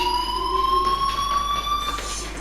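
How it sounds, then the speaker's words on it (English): A fire alarm rings indoors, a steady electronic tone held at an even pitch, fairly loud and unbroken with no talking over it. "do you hear that fire alarm?"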